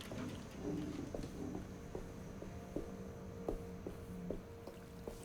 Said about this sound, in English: I like the sound of her footsteps.